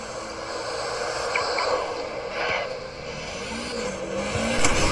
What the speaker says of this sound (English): let's drive our pickup truck now